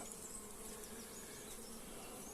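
Honey bees in an opened, queenless hive make a dense, steady buzzing hum, quiet and continuous throughout with no talking.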